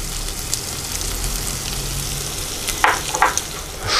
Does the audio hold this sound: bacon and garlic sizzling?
yes